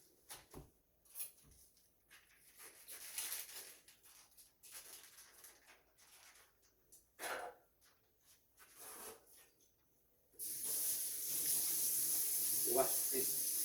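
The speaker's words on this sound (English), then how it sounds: "Wash this first our hands" Tap water gushes loudly into a sink as hands are washed in a kitchen before slicing tuna, a steady hissing stream arriving suddenly near the end after quieter stretches of speech and small handling sounds.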